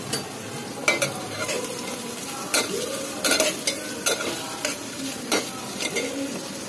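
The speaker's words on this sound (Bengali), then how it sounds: "এটা একটু লাল লাল করে ফ্রাই করে নিই।" Onions frying in hot oil with a bay leaf in a pot, a steady close sizzle broken by repeated sharp clinks and scrapes of a spoon stirring against the metal.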